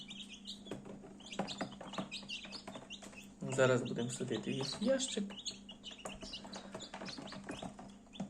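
Newly hatched Faverolles and Brahma chicks from an incubator peep in rapid, high chirps, a cluster of them close by, with a person speaking over the chirping.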